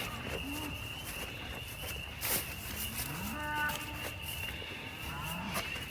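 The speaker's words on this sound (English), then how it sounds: "she's a fat cow" A cow in a squeeze chute lets out several low, drawn-out moos over steady outdoor background noise, with faint clatter and rustling around her.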